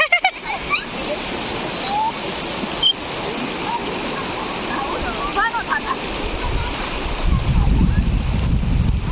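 River water rushing and splashing close by, mixed with wind buffeting the microphone, while voices talk over it and the churn grows heavier near the end.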